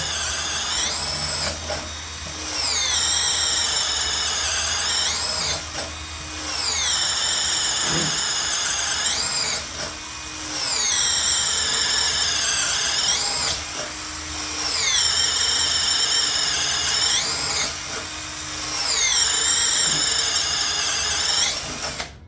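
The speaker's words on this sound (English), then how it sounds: "6 holes, 1/2 inch spade bit." A Greenworks 24V cordless drill bores a series of half-inch holes with a spade bit, loud and close, each whining bore rising and falling for a few seconds between short pauses, with no talk.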